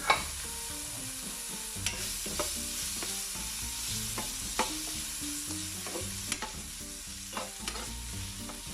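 Onions with a pinch of salt fry in a pan for an asparagus omelette and soup, a continuous close sizzle broken by regular scraping strokes of a stirring utensil, with no voices.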